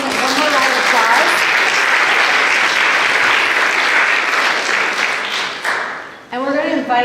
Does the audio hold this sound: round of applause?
yes